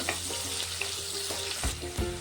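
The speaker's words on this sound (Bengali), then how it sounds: "এখন দিয়ে দেব টমেটো কুচি। টমেটোটা একটু ভেজে নেব।" Chopped tomatoes frying in hot oil, seasoned with nigella seeds, give off a steady crackling sizzle close up, with a couple of brief scraping stirs near the end.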